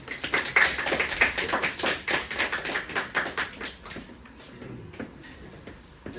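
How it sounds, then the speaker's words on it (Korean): At a high school admissions information session, the audience claps to welcome a math teacher: a few hands clapping in loose, separate taps that fade into scattered faint claps, moderately quiet and with no talking. "자, 박수로 맞이해 주시죠."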